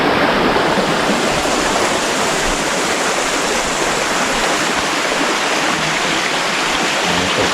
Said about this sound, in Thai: นี่เป็นมุมลับสำนักพาเที่ยวพามาดูน้ำตกหน่อย